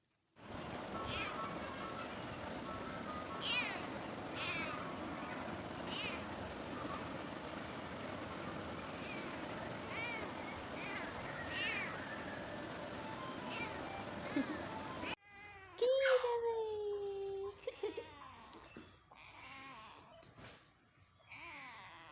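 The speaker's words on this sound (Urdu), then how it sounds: "یہ براؤن کلر کی کٹن کا نام گولڈی ہے اور یہ چھوٹی کا نام چٹکی" Two kittens, one of them brown, with a single rising-then-falling meow near the end after a long stretch of steady background noise; the cry sounds close and fairly loud.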